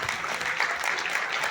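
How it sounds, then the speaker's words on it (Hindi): Audience applause in a hotel event hall in Delhi, a dense, steady wash of many hands clapping at once, moderately loud and sustained throughout with no talking over it. "एक बार हौसला अफजाई कर, एक बार जबरदस्त तालियां।"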